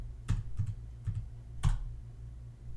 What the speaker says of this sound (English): Make sure I typed everything out all right.